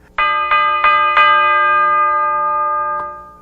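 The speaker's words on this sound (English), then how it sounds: "And then I added a bell." A bell added to a finished hip-hop beat rings out in four quick bright strikes followed by one more, each tone ringing on with a clear sustained shimmer, loud and alone with no voices.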